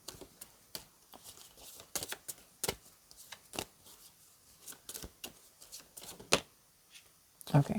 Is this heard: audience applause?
no